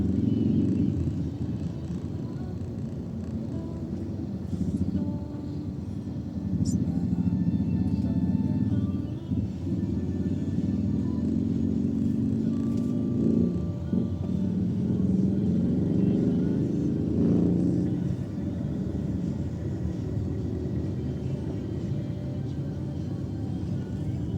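Road traffic in San Isidro, Cabanatuan City, Nueva Ecija rumbles steadily: a low, continuous drone of idling and passing engines, swelling now and then as vehicles move nearby.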